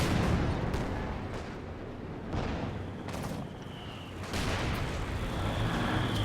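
Rumbling rocket barrage from a Stuka in Company of Heroes 2, a 2v2 match, booming as a dense wall of blasts and crackling impacts, fairly loud and continuous with heavier bursts near the start and end.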